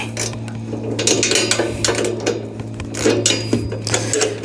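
Ratcheting wrench loosening a 1/2 inch bolt and nut on a sheep feeder, a steady run of close, rapid mechanical clicks over a constant low hum.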